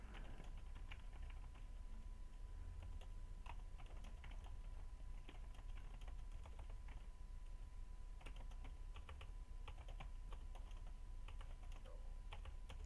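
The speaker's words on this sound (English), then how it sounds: "typing seems hard" Steady computer keyboard typing with irregular rapid key clicks over about thirteen seconds, close and fairly quiet, with no one talking.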